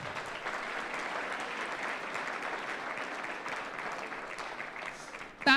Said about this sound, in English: Can I have one more round of applause for our varsity basketball cheering squad?